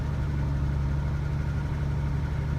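A 1977 AMC Hornet's old engine idles steadily while warming up, a close, constant low rumble with a slight vibration and no talking.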